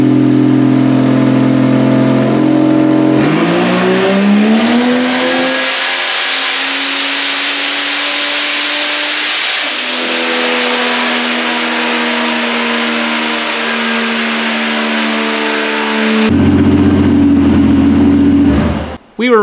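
A loud turbocharged Vortec 4200 engine on a dyno pull revs hard and climbs steadily in pitch for several seconds, holds, then drops back to a rough idle.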